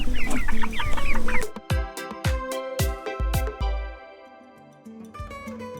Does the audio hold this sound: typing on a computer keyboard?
no